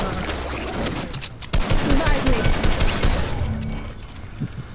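Rapid gunfire from the Fortnite video game rattles in a dense, sustained burst over game sounds, with players talking over the shooting.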